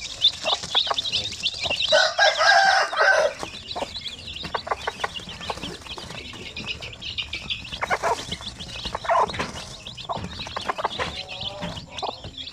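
Native Zampen chicks and hens cluck and cheep busily on a farm, a dense flock chorus with a louder burst early on and steady chatter after, no talk over it.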